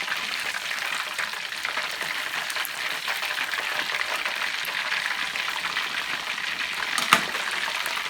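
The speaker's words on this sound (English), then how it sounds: "let them finish frying on the bottom side" Continuous bright crackling sizzle of bone-in chicken frying in hot oil, steady and close, with a small pop near the end.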